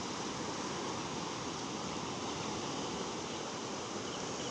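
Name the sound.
water flowing over a flooded rice paddy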